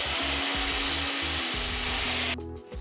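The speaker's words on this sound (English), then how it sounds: "Got a pair of pliers and I'm just kind of trying to stretch the metal out just a tiny bit." Metal scraping and grinding as pliers work the end of a steel exhaust pipe to widen it for a diesel heater muffler in a van, a continuous rasping noise with a short pause, ending with a quieter tail.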